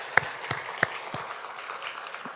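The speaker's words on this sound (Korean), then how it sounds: "우리 박수로 환영하겠습니다" A church congregation gives a brief, sparse round of clapping to welcome a new member, a handful of distinct claps in a quick, fairly even rhythm that fades out within a couple of seconds.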